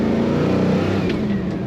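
A 1967 Pontiac GTO engine drones loud and steady from inside the car while driving, a continuous low rumble with a slight shift in pitch partway through, no talking.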